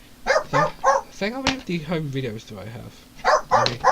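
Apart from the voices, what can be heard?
dog barking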